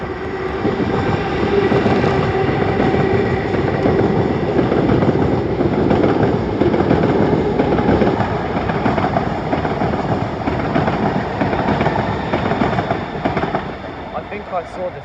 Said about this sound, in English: here comes the 1848 London Northwestern Railway service to Watford Junction.